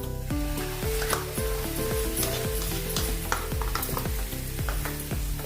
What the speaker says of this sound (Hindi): अभी इसमें डालेंगे अपना पिसा हुआ टमाटर का पेस्ट।